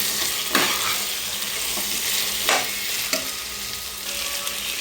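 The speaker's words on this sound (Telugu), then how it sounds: "బాగా ఫ్రై అవ్వాలి." Carrot, potato and beans fry for vegetable rice, a constant loud hiss of sizzling oil. A few sharp scrapes mark stirring in the pan, and no one speaks.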